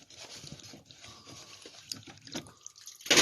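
Water drips from a residential water filter housing as it is taken apart, falling as scattered, uneven drops at close range with small handling clicks and a louder splash at the end.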